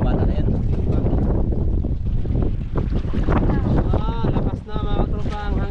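Strong wind buffets the microphone in a continuous loud roar on what sounds like a boat out on the water, while people talk over it.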